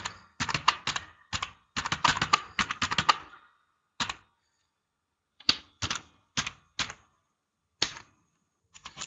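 Keys clacking on a computer keyboard as an email ID is entered, first a dense run of keystrokes, then sparser scattered taps and short bursts after a pause, close and clear with no talking.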